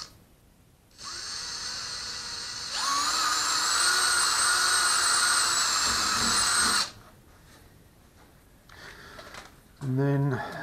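A power drill with a 3.5 mm bit bores into a car body panel during bodywork, giving a steady high whine for several seconds, loud and close, then stopping.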